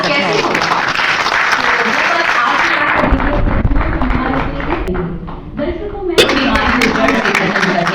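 Applause from an audience at a national honour award ceremony, a sustained wash of clapping that swells and thins, with a voice speaking over part of it.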